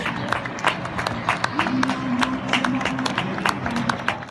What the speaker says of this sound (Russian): И сейчас я вам хочу показать немножко видео, как люди у нас аплодируют на балконе нашим медицинским работникам.